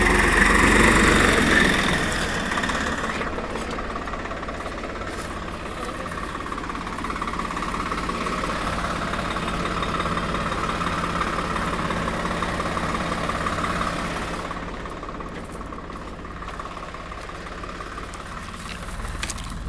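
Swaraj 742 XT 45 hp three-cylinder tractor engine running steadily at a low, even idle, loudest at the start and then holding a continuous rumble to the end, with no talk over it.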